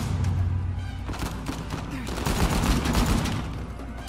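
Gunfire in Uncharted 4: A Thief's End, a dense, loud barrage of overlapping shots and thumps that keeps going without a break for the whole stretch.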